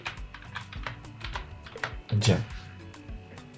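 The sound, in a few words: typing on a computer keyboard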